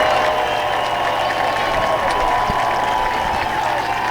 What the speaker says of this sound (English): The crowd's into it.